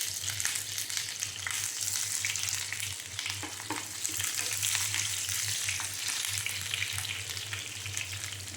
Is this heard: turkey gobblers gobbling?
no